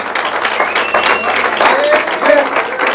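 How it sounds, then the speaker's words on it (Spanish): A church congregation claps together in sustained, dense applause, loud and close, with voices calling out over the clapping. "dele un aplauso al Señor."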